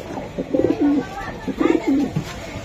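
Restless racing pigeons coo close by in two loud rolling bursts with wingy fluttering between, a voice briefly heard underneath.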